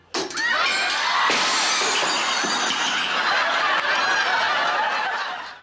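Glass prop chandelier smashing to the floor in a sitcom finale, a loud sustained crash and shatter with tinkling fragments lasting several seconds, with a studio audience chuckling and laughing through it.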